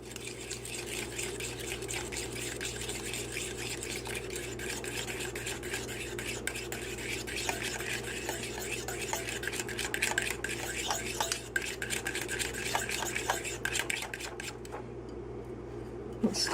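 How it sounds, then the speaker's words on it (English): A whisk beats chocolate chip cookie batter in a bowl for skillet cookies baked in mini cast iron pans. Rapid, close clicking strokes run continuously over a low steady hum, with some faint talking, then stop near the end. "Okay, now we go back to whisking here."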